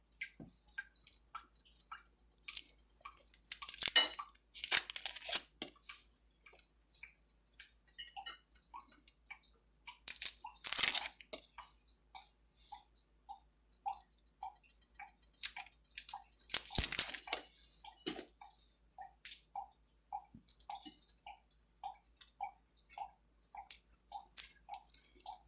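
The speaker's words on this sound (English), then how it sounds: "I got a dripping faucet. It's driving me nuts." A dripping kitchen faucet, with regular, evenly spaced soft plinks of water in the second half, mixed with rustling, crinkling and tearing noises from cooking preparation.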